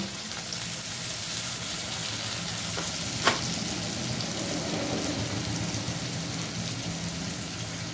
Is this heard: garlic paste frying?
yes